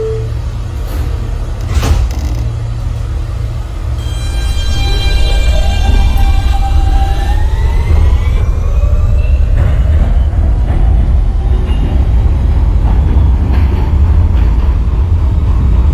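An NYC Subway R160 R train departs in the OpenBVE simulator, its traction motors whining upward in rising tones over a loud, steady rail rumble as it accelerates away.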